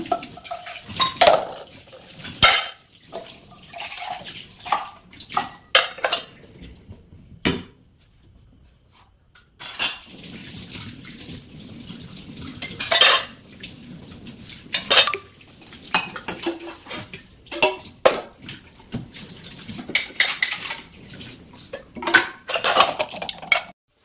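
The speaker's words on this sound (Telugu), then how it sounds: "గిన్నెలు అయితే తోమేస్తున్నాను" Dishes and pots being scrubbed and washed at a kitchen sink: irregular clanks and scraping of steel utensils with short bursts of running water, close by and with no talking.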